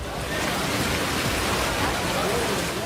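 Heavy rain pours steadily at the Dwarkadhish temple in Gujarat, a dense, even hiss filling the whole stretch without pause and with no voices.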